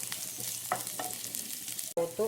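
Spices for tempering frying in a small pan of hot oil, a continuous close crackling sizzle with a few sharper pops and a clatter near the end.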